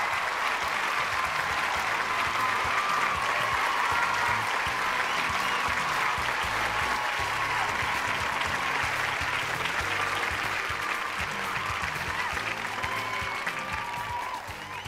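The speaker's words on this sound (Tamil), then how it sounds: "உங்களுடைய கைத்தட்டல் இப்படியே தொடர்ந்து இருக்கணும்." Studio audience applause on a televised courtroom-style interview show fills the whole stretch, a steady, dense clapping that is moderately loud and unbroken, fading slightly at the end with no talk over it.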